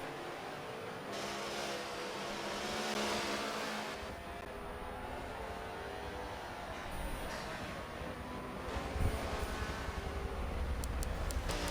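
Ferrari and BMW GTE race cars at Monza's Autodromo Nazionale during an FIA WEC round, with loud, steady engine roar and rising revs close by, continuous throughout with no speech.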